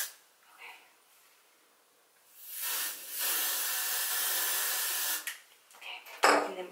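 Hairspray hisses out of a can in one long, steady burst of about two and a half seconds, close and loud, with a few shorter puffs and handling sounds around it during hair styling at home.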